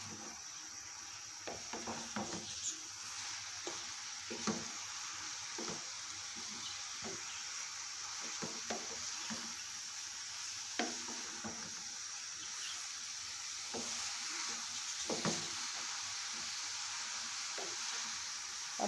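Grated carrots for Indian carrot halwa sizzle in a hot pan over high flame while being stirred, with a steady quiet frying hiss and repeated soft scraping clatters throughout.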